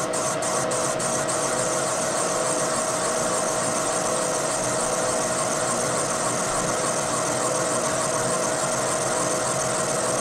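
A Moore jig borer takes a facing cut with a Wohlhaupter boring head, giving a continuous, even machine hum and whir with a steady tone, close and unbroken for the whole stretch.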